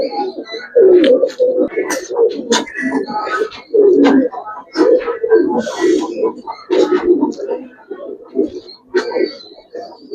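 Pigeons, including Giribaz and Mushaldom breeds, coo repeatedly up close in soft rhythmic bursts that overlap one another throughout.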